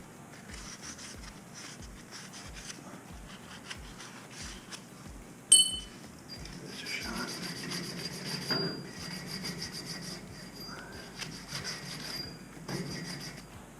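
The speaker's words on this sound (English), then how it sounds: "Sand it real good, like so" Sandpaper rubbed against a Sloan flushometer valve fitting, a faint close rasping scrub in rapid strokes, interrupted by a sharp metallic clink and continuing with softer scraping afterward.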